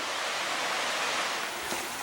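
A creek in a wooded ravine near Goldstream rushes in a steady, close, broadband hiss of flowing water, unbroken and even for the whole stretch.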